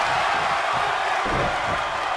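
A wrestling arena crowd cheers and roars in the WWE 2K23 video game during an NXT match, a dense, continuous wash of crowd noise with no clear talk over it.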